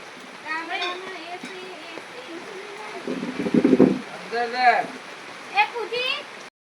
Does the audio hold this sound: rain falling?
yes